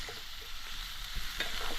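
Masala tossed into a hot pan for jackfruit curry at a village farmhouse crackles with a steady close sizzle and soft stirring scrapes, continuous frying with no voices.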